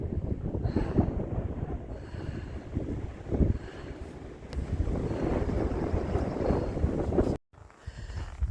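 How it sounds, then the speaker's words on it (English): Strong mountain wind on Loft Mountain along the Appalachian Trail buffets the microphone in loud, continuous gusts that swell and ease, briefly cutting out near the end, with no voices. "Going around Loft Mountain, it's very windy up here."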